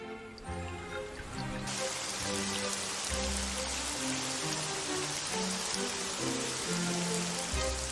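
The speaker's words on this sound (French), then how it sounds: "Quel déluge! Il ne s'est pas arrêté de pleuvoir" Heavy rain pours down in a steady, dense hiss of drops striking surfaces, continuous and fairly loud throughout, with gentle layered music playing beneath.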